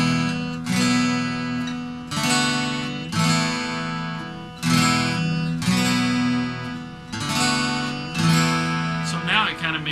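Guitar strumming a four-chord progression, each chord rung out in repeated strums with a clear rhythmic pulse, close and alone.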